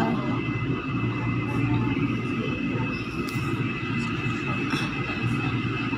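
Continuous rumble and rattle of a light rail train in motion, with steady wheel noise and occasional faint squeals, heard from inside the car.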